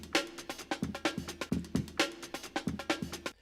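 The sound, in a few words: Drum break sample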